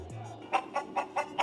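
A rooster in a Miami neighbourhood clucks in a quick series of five short, evenly spaced calls, faint and close.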